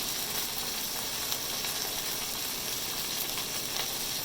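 A sweet and sour stir-fry crisps in hot oil in a pan, giving a close, continuous sizzle with faint crackles and light stirring throughout.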